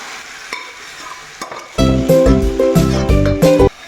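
Drumstick leaves and green gram stir-fried in a pan for a thoran, with a spoon scraping and stirring through a steady sizzle that grows louder and busier in the second half.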